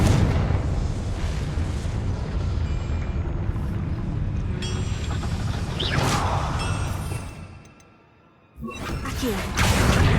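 A Confringo fire spell explodes in Hogwarts Legacy, a loud rumbling blast with crackling and whooshes that drops briefly to near silence before another burst.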